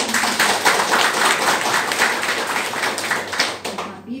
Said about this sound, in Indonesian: Tepuk tangan untuk rumah sakit.